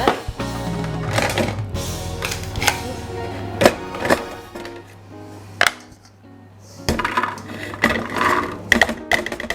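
Food processor blending black bean brownie batter for a gluten- and dairy-free recipe, a steady motor drone broken by thunks and pauses between pulses, loud and close with no talking.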